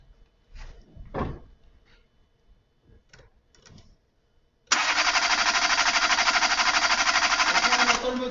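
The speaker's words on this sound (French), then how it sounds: "On entend le moteur qui tourne" A car that will not start is cranked over. After several scattered knocks and clunks, the starter kicks in with a loud, steady, rapid whirring churn that continues unbroken for several seconds.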